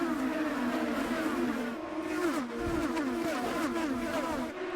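IndyCar race cars at Iowa Speedway produce a steady, high-pitched engine whine with several overlapping tones that shift in pitch as the cars pass, continuous and moderately loud throughout.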